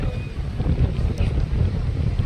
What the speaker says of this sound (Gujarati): પવન સારો આવે છે